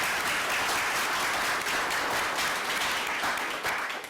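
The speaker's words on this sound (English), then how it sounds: "give her an applause" Audience applause for a city employee at a city council meeting, a steady dense wash of clapping that holds for the whole stretch without pause.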